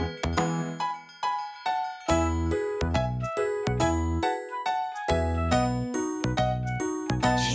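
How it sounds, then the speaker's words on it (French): Bright, bell-like tones ring out in quick melodic runs, chiming steadily and clearly for several seconds with no voices. "J'utilise mes oreilles, oreilles, pour entendre les carillons."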